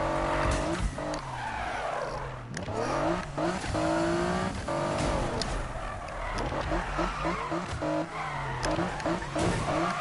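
Race cars in a video game roar and rev continuously, with repeated tire squeals and skids as they corner and swerve through traffic, loud and dense without talk.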